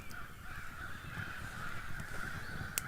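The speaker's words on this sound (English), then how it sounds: "You hear those crows? There's like a giant flock of them over in the trees over there, and they are freaking loud." A large flock of crows caws loudly from nearby trees at an overnight camp, a steady, dense chorus of harsh calls with no talking over it.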